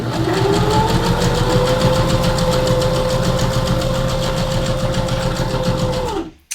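A sewing machine stitching a seam in fabric, running steadily at close range with a rapid, even mechanical whir for about six seconds before stopping abruptly.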